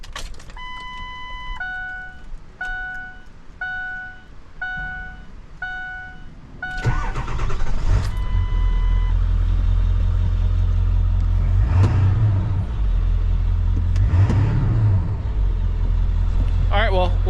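A Ford Excursion with a 7.3 diesel engine, after a series of chime tones, cranks and fires up, then settles into a loud, steady diesel idle with a deep low rumble and occasional rises in pitch.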